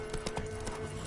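Roach the horse trotting in Witcher 3, a steady run of soft clip-clop hoofbeats over low game ambience, fairly quiet and even.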